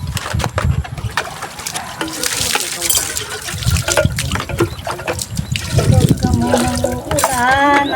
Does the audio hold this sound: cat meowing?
no